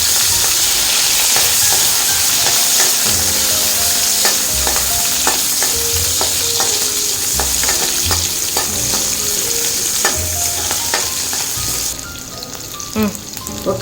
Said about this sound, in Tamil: சின்ன வெங்காயம் போட்டு தாளிக்கணும்